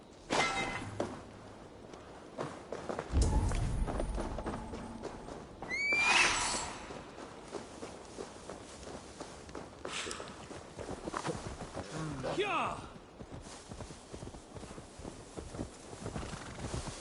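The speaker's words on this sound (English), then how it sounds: "Now to deliver Magni his horse." Horse hooves clop along at a walk in the video game Assassin's Creed Valhalla while a horse lets out a sharp whinny partway through, with a second softer snort later, fairly quiet overall.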